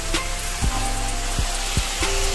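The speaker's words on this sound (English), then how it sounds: "we done sauteed the onions, peppers, and sausage" Onions, peppers and sausage sautéing in a pan give a steady crackling sizzle, punctuated by several knocks and scrapes of a spoon being turned through the mix, with a faint background hum.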